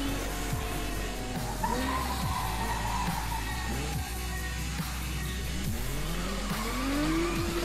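A four-wheel-drive car racing in the video game Need for Speed Most Wanted, with a steady engine drone, rising revs and repeated tire squeals as it corners, with no talk over it.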